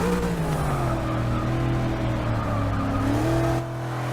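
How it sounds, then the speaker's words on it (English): A turbocharged Mustang in Forza 6 laps Laguna Seca, its engine droning loud and steady before a quick pitch shift near the end, with any turbo blow-off folded into the continuous roar. "Love that blow-off sound."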